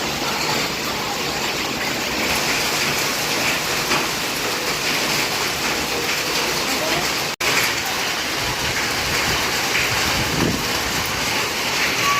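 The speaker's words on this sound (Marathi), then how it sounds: "गावांचा पाऊस खूप जास्त खरंच" Heavy rain with hail pours steadily in a dense roar, like a downpour hammering a roof, continuous throughout with a brief cut partway.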